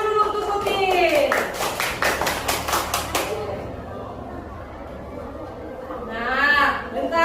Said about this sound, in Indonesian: tepuk tangan dulu untuk Utin.